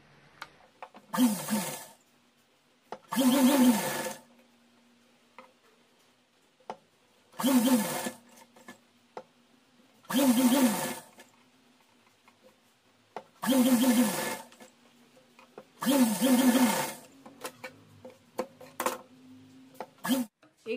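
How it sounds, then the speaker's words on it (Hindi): A sewing machine stitches piping onto a doll's choli in six or seven separate bursts of rapid whirring, each lasting a second or two, with quiet pauses between them. "ये पहले यहाँ से इस तरीके से सिल करके लगाना शुरू करेंगे"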